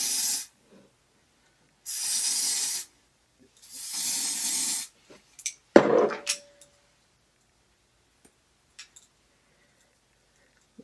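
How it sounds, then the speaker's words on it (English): Hair spray hisses from a can onto a wig in short bursts, three distinct sprays of about a second each, fairly close, followed by faint handling clicks and quiet. "go in with this even spray"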